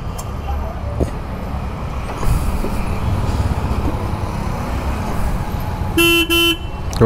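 A Harley-Davidson Fat Boy motorcycle horn, just restored after failing, honks twice near the end, a sustained bright blast, after several seconds of engine and traffic rumble with faint voices.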